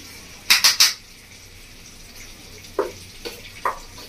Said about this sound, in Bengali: এইভাবে একটু চামচ দিয়ে ভালো করে ঘেটে দেবো